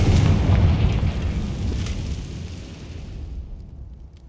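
A Confringo blasting spell from Hogwarts Legacy bursts in one loud, close explosion, its deep rumbling roar fading away over about three seconds into quiet.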